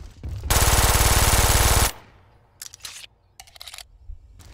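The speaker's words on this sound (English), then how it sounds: "And a machine pistol." A machine pistol in the video game BRINK fires one loud rapid burst of about a second and a half, followed by a few quieter mechanical clicks and clatters.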